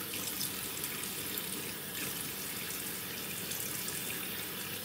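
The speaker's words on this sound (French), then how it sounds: "je rince mon petit gant" A washcloth is rinsed under a running tap, a dense continuous splashing hiss of water into a sink, close and steady throughout with no voices.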